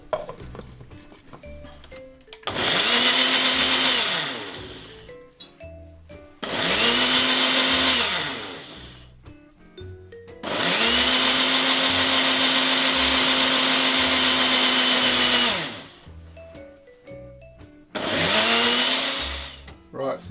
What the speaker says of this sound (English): we're just going to blend out our ginger